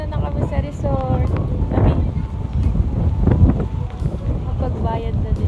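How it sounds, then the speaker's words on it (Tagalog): Strong wind at a seaside resort with big waves buffets the microphone with a constant low roar, while people talk over it. "Sobrang lakas din ng hangin, no?"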